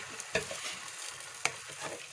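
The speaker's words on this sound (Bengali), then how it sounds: "সামান্য লঙ্কা গুঁড়ো এতে মিশিয়ে দেবেন, দিয়ে নেড়ে নিন" Taro and potato curry with chili powder is stirred in a pan, a steady low sizzle broken by two sharp spatula scrapes against the metal, close and fairly quiet.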